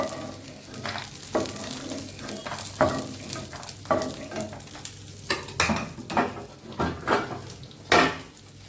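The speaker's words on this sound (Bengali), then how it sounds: "বাদামটা আমার ফ্রাই করা হয়ে গেছে, তুলে নিচ্ছি।" Fried peanuts are lifted out of a hot frying pan with a metal spoon: a string of sharp scrapes and clinks against the pan over a soft, lingering sizzle of oil.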